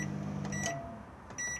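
Microwave oven inside an Elddis Majestic 120 motorhome gives a couple of short electronic beeps over a low hum, close and fairly quiet.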